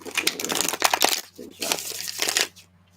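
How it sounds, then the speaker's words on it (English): Tarot cards being shuffled in quick crinkly riffles and slides, a dense papery rustle with short pauses, close and fairly loud, ending abruptly after a couple of seconds. "One more shuffle."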